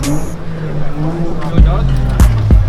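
Exotic cars at a Dallas Cars and Coffee meet, a Lamborghini Aventador among them, with engines rumbling close by and two sharp revs late on, over steady crowd chatter.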